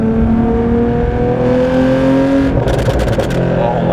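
A Porsche 911 GT3 Touring with a six-speed manual revs loudly from the cabin while driving, its engine note climbing steadily. A brief gearshift gap follows, then a crackling burst of backfire pops, and no one speaks.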